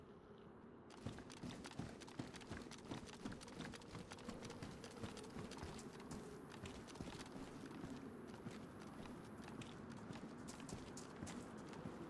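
Zombie footsteps in a video game, a continuous run of soft, closely spaced steps with a shuffling, clopping rhythm, moderately near and fairly quiet.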